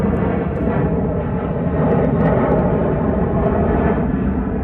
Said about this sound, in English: I can't too much compete with the airplanes.